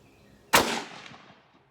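An Arisaka Type 99 rifle fires a single 7.7 Japanese round, one loud sharp crack with a short echoing decay outdoors.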